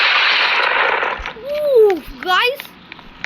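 Gunfire in the Roblox video game opens as a loud, rough burst of rapid shots lasting about a second, followed by a voice speaking with rising, gliding tones.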